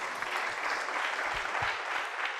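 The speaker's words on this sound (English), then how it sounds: "A better round of applause for our provost" Steady applause from a lecture audience honouring the provost after a financial literacy talk on household budgeting, sustained and fairly soft throughout with no voices on top.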